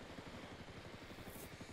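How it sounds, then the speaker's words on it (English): Drone deployed in the Ghost Recon Wildlands video game, a faint steady whirring rotor buzz with fast pulsing flutter running throughout. "Deploying drone."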